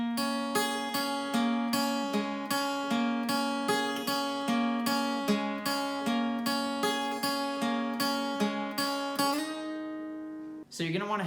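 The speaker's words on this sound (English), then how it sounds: "I'm going to show you the lead part of the pre-chorus that plays in the background of the part you just" Acoustic guitar plays the pre-chorus lead of a song: a steady run of evenly spaced plucked notes over ringing strings, close and clear, closing with a short strummed chord.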